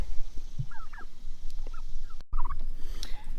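A heritage turkey on a pasture farm gobbles repeatedly in short bursts, loud and close, with other faint bird calls and outdoor noise around it.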